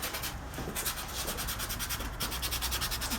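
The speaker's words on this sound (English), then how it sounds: "Also, I sometimes use just sanding pads." Steady rhythmic rubbing of an abrasive sanding pad against metal, a fast back-and-forth scratch, fairly quiet and close, with no voices.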